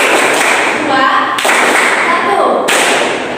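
A vocational school class claps together in a counting rhythm game, the tallies of claps landing as dense, loud bursts of clapping that fill the whole span with brief shifts between groups.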